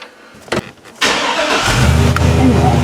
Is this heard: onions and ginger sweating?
no